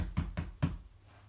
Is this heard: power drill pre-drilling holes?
no